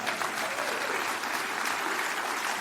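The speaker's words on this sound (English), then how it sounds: "Now, you're supposed to applaud at that right now." An audience applauds steadily at a talk on clean and renewable fuels, with dense, even clapping that holds at a constant level throughout and no speech over it.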